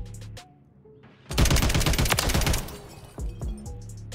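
Automatic gunfire from a Taq Evolvere rifle in Call of Duty MW3, a loud sustained burst of about a second and a half between quieter in-game sounds, with a few scattered single reports before and after.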